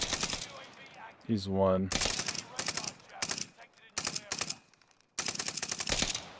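Call of Duty: Warzone gunfire comes in several rapid automatic bursts, separated by short gaps. A player speaks briefly between the volleys.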